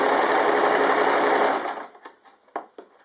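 A sewing machine runs steadily and loudly while stitching quilt binding, then stops, leaving a few faint clicks and handling sounds.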